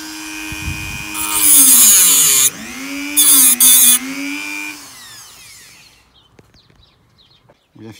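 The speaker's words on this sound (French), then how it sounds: "On vient fixer la plaque avec des vis inox." A power screwdriver drives stainless steel screws into a plate while a snorkel is being built, giving two loud, close whirring bursts separated by a short pause, then near quiet.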